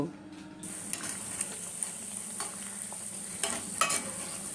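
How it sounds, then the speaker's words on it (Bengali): Khoa-chhana jalebi frying in hot oil, a quiet steady sizzle with intermittent scraping and stirring knocks as the pieces are turned, no voices. "সব জিলিপি আমি তেলে দিয়ে দিলাম কম আছে জিলিপিগুলো উল্টে পাল্টে লাল করে ভেজে তুলব"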